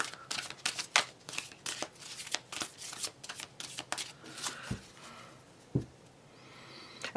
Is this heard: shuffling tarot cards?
yes